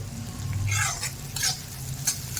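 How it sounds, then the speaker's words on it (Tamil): Onion, chana dal, urad dal and mustard seeds frying and being stirred in a pan: a steady sizzle with scraping strokes of a spoon, close and moderately loud, no talking. "ஒரு வெங்காயம் கடலைப்பருப்பு உளுத்தம் பருப்பு கடுகு போட்டு நல்லா வறுத்துங்க."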